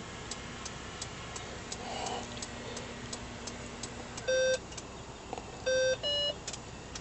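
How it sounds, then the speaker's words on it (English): A Honda Odyssey's left turn signal ticks in a steady, quiet rhythm inside the vehicle, joined near the end by a few short electronic beeps from a Digitone control system. "Turns on the left blinker."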